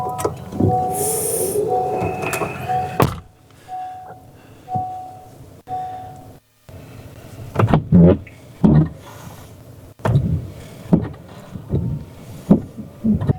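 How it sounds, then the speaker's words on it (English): A driver's side car windshield wiper blade squeaks in short, repeated tonal bursts as it sweeps across the glass, interrupted by dull clunks and knocks, with no voices. "You hear that noise? That's actually the driver's side wiper that's squeaking"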